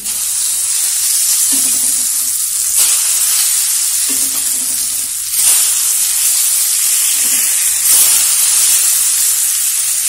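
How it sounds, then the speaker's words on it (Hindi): Hot oil poured over mango pickle spices, a loud, continuous sizzling hiss and spray that swells and fades in waves, with no talking. "ये देख सकते हैं कि मैं तेल इसमें गरम करके डाल रही हूँ"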